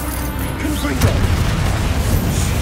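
A Confringo blasting curse explodes during Hogwarts Legacy gameplay with a dull, rumbling boom that swells near the middle and stays dense and low, partly covered by quiet talk.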